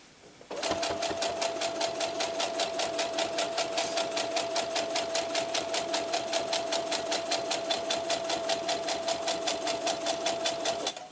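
A sewing machine stitches the seams of a baby blanket in one long, even run of rapid mechanical clatter with a steady hum underneath. It starts sharply, carries on close and loud for about ten seconds, then stops.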